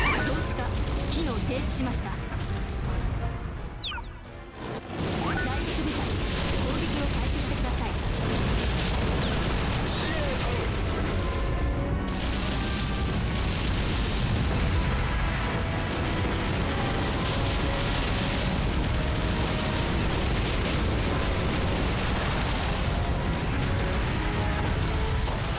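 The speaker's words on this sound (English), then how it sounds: "Godzilla's destroying the city of Japan!" Godzilla smashing through a city in the PS4 Godzilla game, a continuous roar of explosions and crumbling destruction that dips briefly before swelling again, loud and unbroken, with voices talking over it.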